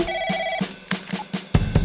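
A telephone rings in a comedic advert, with a steady repeating tone up front followed by sharp, loud bursts and thumps near the end, and no speech over it.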